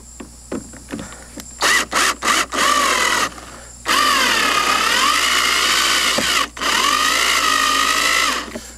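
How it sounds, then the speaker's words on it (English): Power drill running at slow speed, driving screws into the joints of a U-stand: a few short bursts of a whining motor, then two long sustained runs, loud and close, split by a brief pause. "Want to use a slow speed when you're running the screws in."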